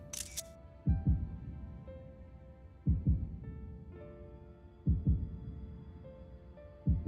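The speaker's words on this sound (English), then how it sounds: "Is that his heartbeat that he's hearing, or ours?" A Final Fantasy XIV heartbeat sound effect thumps in slow paired beats about every two seconds, deep and close, over sustained low ambient tones with a brief high shimmer at the start.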